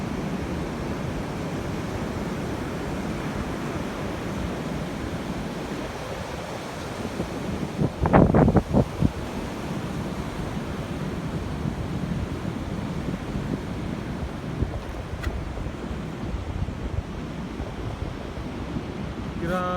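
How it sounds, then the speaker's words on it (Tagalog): Rough, choppy sea surf on the Ilocos coast after a typhoon, a continuous wash of breaking waves with wind buffeting the microphone and a brief louder crash midway. "sobrang maalon, nakakatakot."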